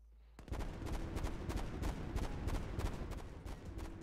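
Dense gunfire in Call of Duty Cold War during a Search and Destroy match, a rapid run of sharp, close shots that starts abruptly and keeps going with an uneven, rattling rhythm, with no talk over it.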